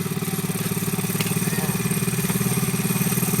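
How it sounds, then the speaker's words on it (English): Small motorcycle engine, a child's first bike, chugging at a steady idle with an even, pulsing low rumble, close and alone with no voices. "This is your first motorcycle, Quan."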